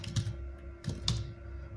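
Keys are tapped on a computer keyboard's numeric keypad, a few quick close clicks in short succession with no voices.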